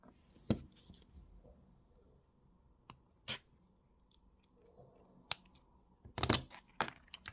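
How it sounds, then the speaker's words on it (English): Wire cutters snip jewelry wire at both ends while making a wire-wrapped tree-of-life pendant: several sharp, isolated clicks spread out over a quiet background, with a quick cluster of snips near the end. "Cut that wire off at both ends."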